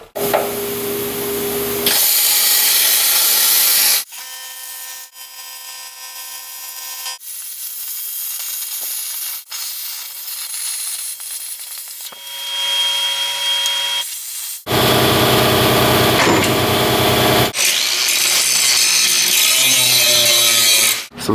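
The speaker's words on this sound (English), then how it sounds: "So now we gotta cut this bottom section out" A power saw cuts out the bottom section of a Dodge Ram 1500 truck frame, with loud, harsh bursts of cutting at the start and end and a steadier, humming tool sound in between.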